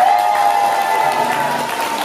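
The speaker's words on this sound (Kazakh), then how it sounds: "Давай бәріміз бірге қаттырақ шапалақ ұрайық." Audience at a 60th-birthday and circumcision celebration applauding together, a steady dense clapping from a crowd throughout the short clip.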